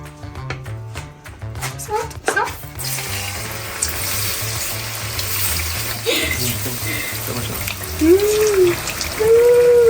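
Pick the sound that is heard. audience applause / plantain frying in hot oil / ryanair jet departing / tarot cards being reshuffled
plantain frying in hot oil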